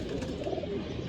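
A pigeon in a pigeon loft gives a soft, low cooing call at close range over a steady background hum, without any voices.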